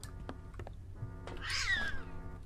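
A cat meows once inside a tactical horror shooter game, a drawn-out rising and falling call heard close and fairly loud over a steady low game hum and scattered clicks.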